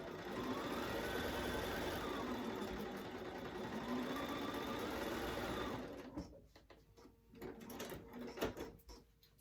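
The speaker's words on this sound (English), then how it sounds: "Back stitching at the beginning and the end." A sewing machine back stitching a tote bag runs in a loud, steady whir for about six seconds, then stops, leaving quiet handling clicks and rustles.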